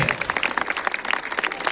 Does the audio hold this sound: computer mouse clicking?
no